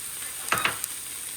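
Garlic cloves dropped into a hot soup pot set off a brief sizzle, two quick soft bursts of frying hiss close up against a quiet background, with no talking.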